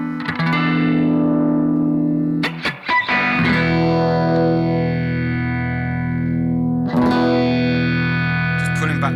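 Electric guitar played through a Boss GT-1000 Core multi-effects unit on its Tweed amp model, with gain pushed and tone rolled back: loud sustained chords ring out and decay, re-struck twice, with no talking.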